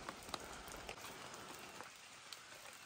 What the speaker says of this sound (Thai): ตอนนี้นะครับฝนตกลงมาแล้วครับที่นี่นะครับผม